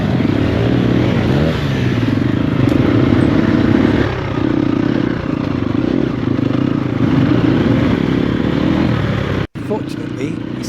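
A Triumph TF250-E enduro motorcycle ridden on dirt tracks, a steady droning engine with fluctuating revs and rattling chassis noise, with a voice talking over it; the sound briefly cuts out near the end.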